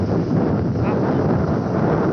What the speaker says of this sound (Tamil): காற்று அப்பா இப்படி அடிக்குது.